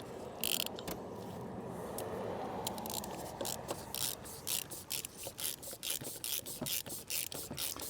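Ratchet wrench tightening a fastener during an oil change on a Porsche 991.2, rapid close clicking in repeated quick strokes, preceded by a softer rubbing, handling noise.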